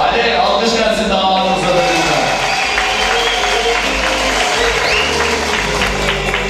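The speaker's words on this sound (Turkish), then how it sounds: "Hadi alkış gelsin daha" Applause and crowd noise fill a Turkish wedding hall, with loud, dense, continuous clapping and overlapping voices talking and cheering throughout.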